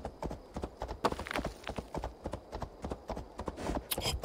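Horse hooves in Assassin's Creed Valhalla, a steady rapid clip-clop of trotting or galloping, close and fairly quiet, with a brief louder rustle near the end and no talk.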